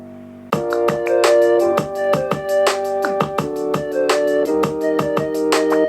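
Animal Crossing guitar pitched down two octaves to act as a bass, thumping plucked low notes in a steady pattern beneath sustained chords and a higher melody, loud and continuous.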